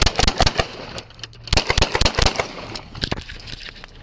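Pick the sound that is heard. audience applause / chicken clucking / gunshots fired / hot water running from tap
gunshots fired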